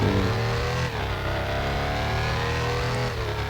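A new Halloween-themed car in a driving video game revs its engine continuously, a loud, steady mid-pitched drone with layered harmonics and a brief dip in pitch partway through, no talking.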